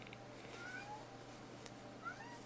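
Smudge, a male cat, gives faint, thin meows, a couple of short rising cries and another near the end, over a low steady hum in a quiet room.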